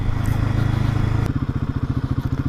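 A motorcycle engine idles and chugs close by on a steep mountain road damaged by a landslide, first as a steady rumble, then as a pulsing, uneven throb after a sharp knock.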